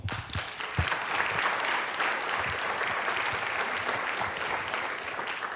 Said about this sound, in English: I just want to applaud her